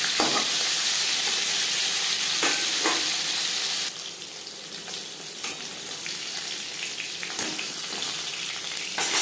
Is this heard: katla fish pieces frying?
yes